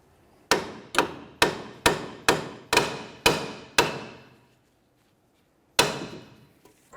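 Eight sharp hammer blows ring out in a steady rhythm against the steel steering knuckle of a 2005-2012 Volvo S40 during a front strut job, followed by a pause and a ninth strike, close and loud with no talking.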